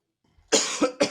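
A quick burst of harsh coughs, two or three in a row, close and loud after a brief silence.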